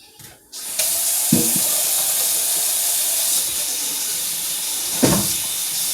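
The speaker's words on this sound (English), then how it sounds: "So it's time to wash this hand off" Kitchen sink tap runs steadily after handling raw rib tip meat, a continuous close hiss of water washing hands with a couple of brief splashing bursts, no talking.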